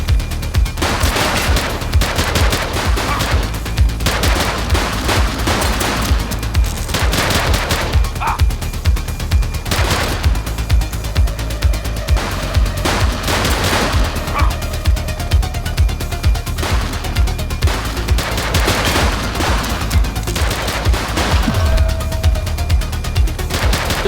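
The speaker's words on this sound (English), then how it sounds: "Shots fired!" A police shootout in the video game The Precinct, with dense rapid gunfire, bursts and single shots cracking almost nonstop at close range, loud throughout, and a dog barking at points.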